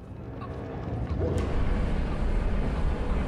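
A chicken clucks in the puzzle video game All of You, set against a steady wash of noisy game ambience that holds at a fairly even level throughout.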